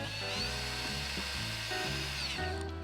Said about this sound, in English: Now we've got to drill it.